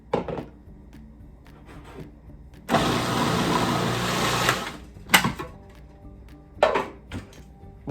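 A food processor blends jalapeno cilantro hummus in one loud, close burst of about two seconds of steady whirring. Scattered clatter and knocks come before and after it.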